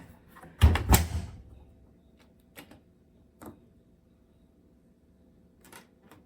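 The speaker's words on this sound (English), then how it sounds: "I'm just going to pop it in the washing machine" A washing machine door is pulled open with a sharp clunk and rattle while a knitted acrylic garment is loaded, followed by a few faint clicks and taps in an otherwise quiet room.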